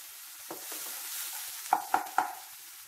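Onions sautéing in a pan for a pepper chicken roast, a quiet, soft sizzle with a few gentle stirs early on and then three quick, louder scrapes of a spoon near the end.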